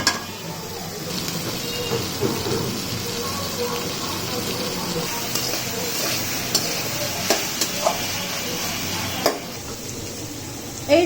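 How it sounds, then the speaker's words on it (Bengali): Beef and onions fry in oil in a pan, giving a continuous sizzle under repeated scraping clinks of a spatula, with a voice talking now and then. "ভাজা ভাজা করবো বিফটাকে"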